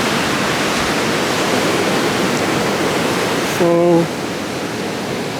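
Ocean surf rolling in at Rockaway Beach by the boardwalk in New York City, a steady broadband wash filling the whole clip with a brief tonal voice cutting in near the middle.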